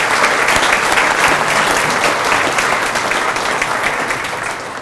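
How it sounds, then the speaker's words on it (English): An audience at a veterans history ceremony gives sustained, dense applause, loud and close throughout, tapering slightly toward the end. "We have a little applause for our people."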